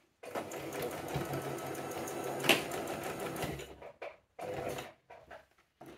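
A sewing machine stitches a zipped pencil case in short bursts of steady mechanical whirring, with pauses and stops between runs, close and clear with no talking.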